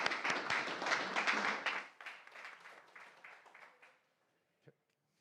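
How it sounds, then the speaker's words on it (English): Applause from a forum audience, dense clapping that is loud at first and then thins and fades out over a few seconds, followed by a brief knock. "please give them a warm round of applause"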